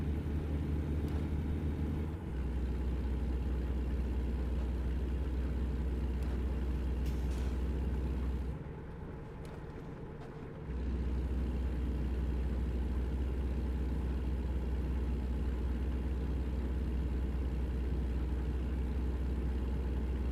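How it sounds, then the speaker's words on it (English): A 15.5-ton truck in a driving video game climbs uphill, its engine a steady loud low rumble that drops away briefly for about two seconds before returning, with no talking. "I've turned the engine tones up a little bit too so I can hear what it's doing."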